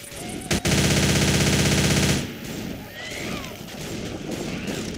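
An M16 rifle fires in the video game Left 4 Dead 2 on the Hard Rain map: a dense, loud automatic burst lasts about a second and a half, then cuts off into quieter background game noise.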